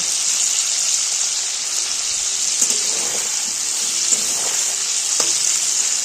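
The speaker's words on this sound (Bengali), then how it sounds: "ভালো মতো চিকেনটাও লাল করে ভেজে নিচ্ছি একদম উল্টে পাল্টে" Continuous loud sizzling of chicken frying in hot oil, steady throughout with occasional faint clinks of stirring.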